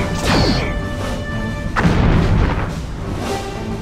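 Torpedoes fire from the rear tubes in the Star Trek Bridge Commander game: a pair of whooshing, booming launches over a constant loud ship hum, the second one heavier and more rumbling.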